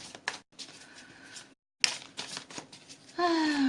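A deck of angel reading cards being shuffled by hand in quick riffling bursts, close and crisp, with a brief pause midway and a tonal hum rising at the end.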